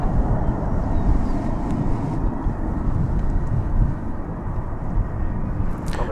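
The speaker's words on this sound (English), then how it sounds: "Fresno cometh this Airbus A321." Airbus A321 from Fresno, California landing at DFW, a steady moderate jet engine rumble with a brief whine rising near the end, no voices.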